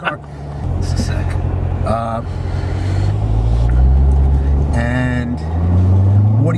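A car engine hums and rises in pitch as it accelerates, heard from inside the cabin, a loud, steady low drone with people talking over it.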